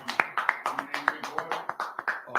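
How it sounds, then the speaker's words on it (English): An audience claps in steady, fairly sparse rhythm, a dozen or so distinct claps close by, with a slight hollow room tone. "let's clap it up"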